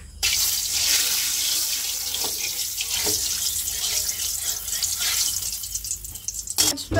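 Tap water runs steadily into a kitchen sink as potatoes are washed, a continuous splashing hiss with small drips and clatters, close and fairly loud throughout.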